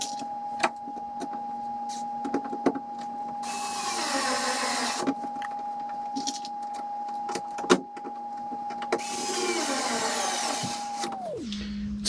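A power driver sinks screws to attach the lid of a DIY fiberglass tonneau cover, its steady motor whine running for several seconds, pausing, then revving again, close and loud, ending with a winding-down tone.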